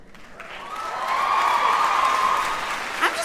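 An audience applauds at a women's college commencement ceremony, a short swell of clapping rising and fading over about three seconds, heard from a distance in a large hall.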